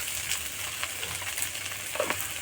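Cumin paste stirred and fried in a pan for a village-style spicy curry of potato, bottle gourd stems and fish: a soft, steady sizzle with faint scraping stirs, close and continuous.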